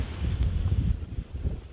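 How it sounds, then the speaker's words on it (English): Steady, loud wind buffets the microphone outside on a cold winter night of sleet, a dense low rumble with gusty surges and no voices. "it is quite windy, and as a result of the wind, it makes it feel much colder"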